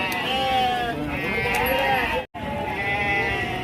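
Sheep and goats bleat repeatedly at a busy livestock market in Rajarampalli, their calls rising close and loud over a steady crowd murmur, with people talking throughout and one abrupt cut near the middle.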